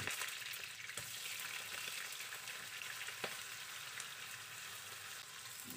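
Garlic and onions sizzle steadily in hot oil in a pan, with occasional clinks and scrapes from stirring. No one speaks.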